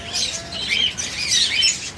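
Pet lovebirds, Java sparrows and budgerigars chirp together in a cage, a dense, continuous layer of bright overlapping tweets close by with no talking.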